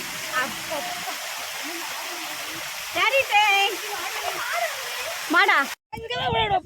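A waterfall rushes in a steady, broad hiss throughout, while several voices talk over it in short bursts near the end.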